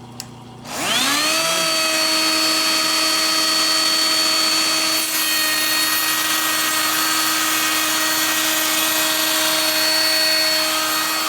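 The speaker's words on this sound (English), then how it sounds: "And now it's just simply start the router." A router saw spins up and runs steadily with a power feeder, a loud sustained whine with strong tonal harmonics after a short start, continuing evenly with no talking.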